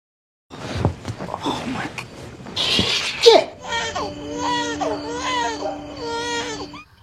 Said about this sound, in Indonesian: Matt akhirnya tidak bisa menahan emosi mendengar bayinya menangis terus.